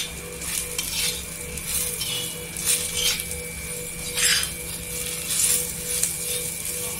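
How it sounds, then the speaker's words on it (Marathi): Coriander and green chillies being sautéed in a pan, a steady sizzle under repeated scraping and stirring strokes of a spatula against the metal, close and fairly loud, with no talking. "इथे कोथिंबीर टाकायची आणि परतून घ्यायची"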